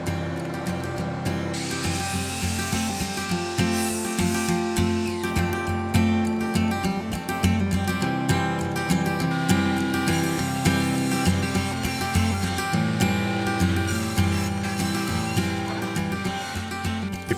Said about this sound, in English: because I was using 2x6s, I basically just ripped them in half